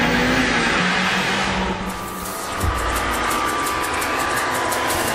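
A turbocharged Ford Focus RS engine pulls hard and loud, with a brief dip and a gear change near the middle before the steady roar resumes, close and without talk.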